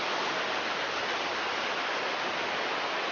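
River water flows past a village fish pond with a steady, dense rushing hiss. The sound is loud and even throughout, with no voices over it.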